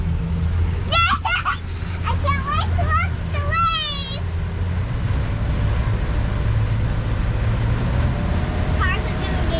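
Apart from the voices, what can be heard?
fishing motorboat engine throttling up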